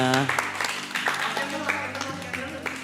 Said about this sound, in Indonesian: sekali lagi tepuk tangan semuanya